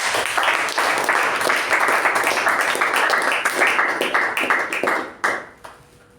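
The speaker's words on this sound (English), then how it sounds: "Let's give him a resounding round of applause" Meeting audience breaks into a steady round of applause, dense clapping from many hands that holds loud for about five seconds, then fades out with a few last claps.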